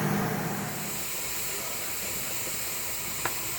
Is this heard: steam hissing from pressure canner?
yes